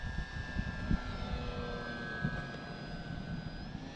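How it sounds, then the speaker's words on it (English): A radio-controlled Master Series Mustang model plane flies overhead with a steady, thin engine drone holding at moderate distance, its pitch slowly shifting as it passes, with faint outdoor noise beneath. "Look at this plane. This thing is great."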